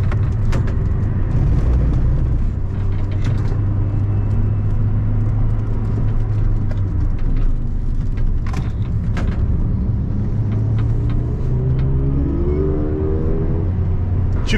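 A race car on the Nürburgring runs at full throttle, its engine and exhaust a loud, continuous roar that climbs through the revs near the end, with wind and mechanical rattles over it.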